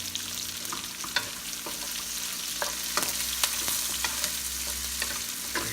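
Spring onion frying in a pan for pork liver steak, a steady close sizzle with occasional scraping clicks from stirring, running alone throughout.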